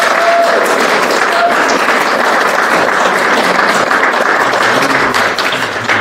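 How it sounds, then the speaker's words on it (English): An audience at a city council Ward 1 candidate forum applauds steadily for about six seconds, a dense, even wash of many hands that holds loud and tapers slightly at the end. "it would be appropriate to give them a round of applause"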